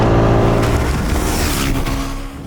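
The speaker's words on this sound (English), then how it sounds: "this one is continuing to surge on right up to its rev ceiling" A 2025 TVS Apache RR310 motorcycle engine revving hard toward its rev ceiling, a loud, close, rising drone that stays strong and then eases slightly at the end.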